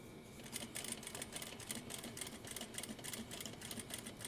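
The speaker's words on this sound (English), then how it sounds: "I'm going to sew a 1/4 inch." A sewing machine stitches a quarter-inch seam with a little backstitching: a quiet, steady, fast mechanical clatter of needle strokes that runs the whole time with no talking.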